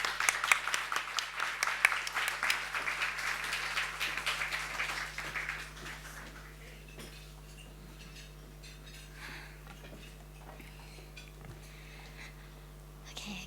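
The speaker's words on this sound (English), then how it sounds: "Round of applause for her, please." Applause from an audience at a talk as Yeonmi Park is welcomed to the stage, loud dense clapping that thins out and fades into scattered claps and quiet room murmur.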